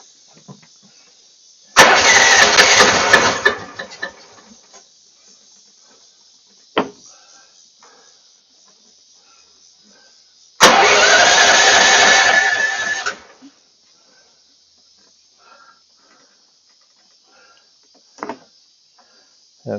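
A Kohler replacement engine on an AMT626 machine with a no-power, won't-accelerate fault roars in two loud bursts of a few seconds each, separated by quiet gaps with a faint steady insect-like hum and occasional clicks.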